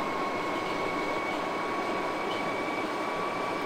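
A London Underground C Stock train on the District Line in the OpenBVE simulator runs steadily, with a continuous rolling rumble and a sustained motor whine held at constant loudness, with no talk.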